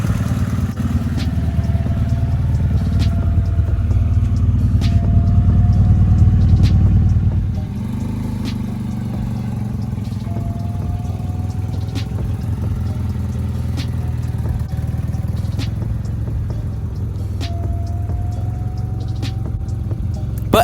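A Honda engine idles steadily at around 1,000 RPM with a close, low mechanical rumble and light valve clatter, running a bit louder at first and then settling into an even, slightly softer idle.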